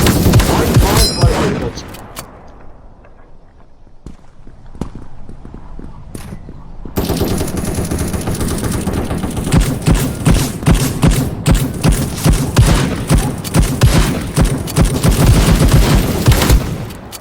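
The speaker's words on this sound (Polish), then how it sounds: "Zabity ładnym, pięknym strzałem." Rapid gunfire from the online shooter game Krunker crackles in dense bursts, a loud opening volley, a quieter lull, then sustained rhythmic shots hammering close and loud to the end.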